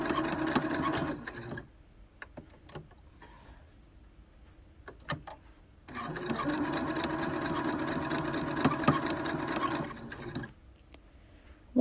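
A sewing machine stitches fabric in two close bursts of rapid, even needle clatter, one short and one longer, separated by quiet pauses with small clicks while the fabric is turned.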